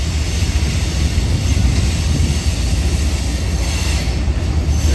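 A CSX freight train with a DPU rolls past on an elevated track through Dayton, Ohio, giving a steady, broad rumble of rail noise with faint wheel squeal and no talk.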